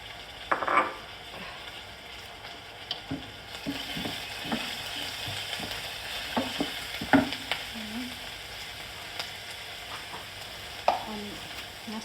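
Garlic sizzling in a pan, a soft steady fry punctuated by scattered clicks and scrapes of a utensil stirring, fairly close and quiet, with no talking.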